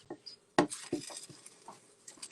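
A Swedish pancake being flipped in a frying pan: light clatters and taps of utensil against pan, one sharper knock, soft and close with sizzling faintly beneath.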